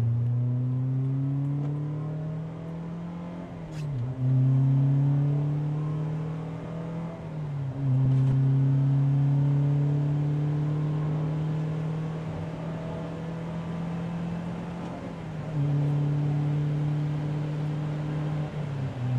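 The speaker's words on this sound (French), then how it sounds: "l'échappement avec les basses qu'il donne là. C'est vraiment fort le bruit, je trouve." A Honda S2000 exhaust revs hard with deep bass resonance heard from inside the cabin, climbing repeatedly through the gears with brief dips at each shift, loud and close, with no talking.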